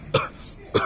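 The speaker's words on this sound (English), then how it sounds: "Oh, now you're coughing" Two short, sharp coughs, close and loud, spaced about half a second apart, with no talking.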